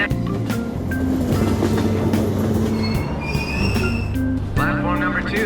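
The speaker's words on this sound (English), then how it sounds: "Train doors are now closing." A Persona 5 Royal train pulls away after its doors close, with a steady rumble of rolling stock, squealing wheels and rising whines running close and continuous under a faint platform announcement voice.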